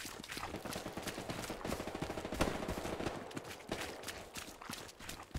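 Gunfire in the WW2 video game Hell Let Loose: dense, rapid bursts of shots crackle continuously, like a firefight nearby, with no voices.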